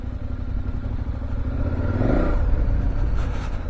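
Loud, close engine of a KTM 1190 Adventure motorcycle revving as the rear wheel spins up, the pitch climbing and droning steadily for several seconds with no voices.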